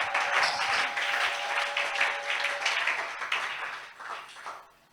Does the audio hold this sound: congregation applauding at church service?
yes